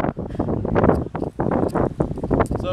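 Gusty wind buffets the microphone in rough, uneven bursts of low rumbling noise, loud and close.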